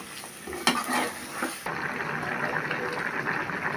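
Yardlong beans and potatoes stir-fried in a pan, with steady close sizzling and scraping stirs, a louder clatter of the spatula early on, then continuous frying hiss.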